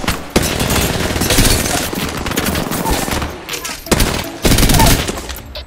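Enemy gunfire in a video game, loud sustained automatic bursts with dense rapid shots, brief gaps and renewed fusillades near the end.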